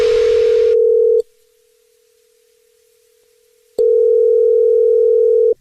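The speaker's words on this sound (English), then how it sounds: "It's another Jubal phone prank." Telephone line tones before a radio prank call: a loud steady tone runs about a second, drops to a faint hum, then returns loud for the last two seconds, alone with no talk.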